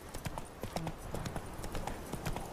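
Horse hooves galloping at a steady gallop in The Witcher 3, a quick repeated clip-clop rhythm close by against a dense game soundscape.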